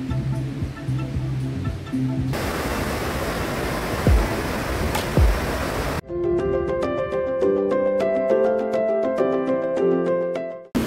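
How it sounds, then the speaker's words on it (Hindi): Waterfall at Jibhi beside a temple, a steady broadband rush of falling water filling the scene, broken partway by abrupt shifts in level. "वाओ, वहां से भी पानी गिर रहा है"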